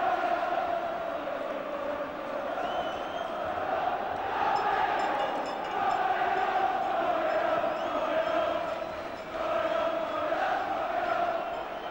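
A 1983 English league football crowd chants in a rolling, swelling roar that rises and falls across the stretch, loud and sustained, with a faint commentator voice mixed in.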